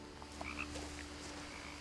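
Frogs croak outdoors around a house in the game What Remains of Edith Finch, several faint scattered chirping croaks over a low steady hum of ambience.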